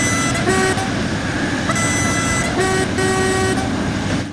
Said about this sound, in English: This horn is just so bizarre.